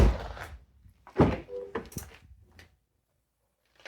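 A car door fitted with custom puddle lights swings shut with a soft thunk and a brief rattle, close and moderately loud, followed by quiet.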